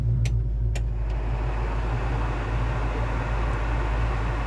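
Air conditioning blower on a 1970 Ford Mustang runs in a steady, loud whoosh over a low idle rumble inside the car, with a couple of brief clicks near the start.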